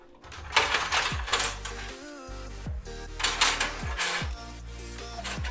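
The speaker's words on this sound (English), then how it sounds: "you'll remove the remaining PCIe bracket slots." Metal PCIe bracket slots come out of a Lian Li Lancool II PC case with a run of sharp, ringing metallic clinks, about five distinct knocks spaced through the clip, close and bright.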